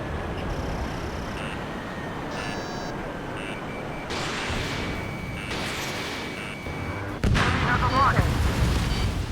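Missile strikes and explosions in the combat flight game Ace Combat 7, where deep booming blasts roll over a constant jet engine roar and a big, loud explosion bursts near the end.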